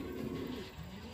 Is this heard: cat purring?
no